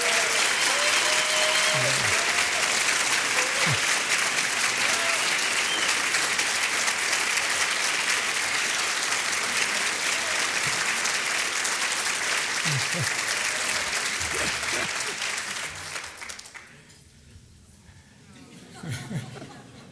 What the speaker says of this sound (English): stand up and give Asher Kaufman a robust round of applause